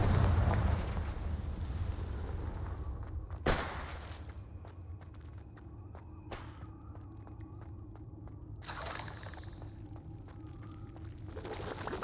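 Confringo blasting spells go off in Hogwarts Legacy, several sharp bursts spaced a few seconds apart, each a brief bright crack over a low rumbling game background with no talking.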